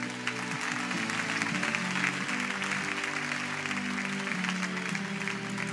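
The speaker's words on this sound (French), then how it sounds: "Acclamez pour eux." A church congregation applauds steadily, a dense sustained wash of clapping that holds for several seconds, with sustained musical tones underneath.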